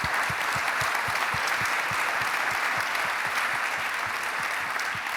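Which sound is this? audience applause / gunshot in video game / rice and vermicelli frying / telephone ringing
audience applause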